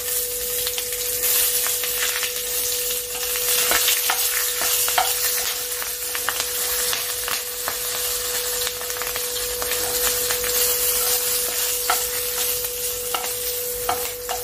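Kalo jeera (nigella seeds) and green chillies fry in hot oil in a pan for hilsa curry with shola kochu, giving a loud continuous sizzle with frequent scraping and stirring clicks, no voices.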